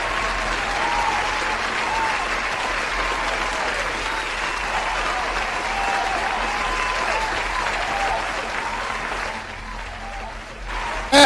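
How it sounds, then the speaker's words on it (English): A live audience applauds at a podcast show, a thick, even wash of clapping that holds steady for about ten seconds before thinning out, with a loud burst right at the end. "The crowd is going wild."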